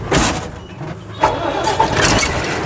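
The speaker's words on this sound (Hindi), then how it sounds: "हो गया भाई स्टार्ट गाड़ी," A car engine cranks and catches, roaring up in bursts before settling into a steady idle, close by with no talking.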